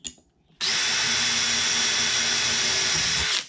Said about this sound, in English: now I'm going to drill them all the way through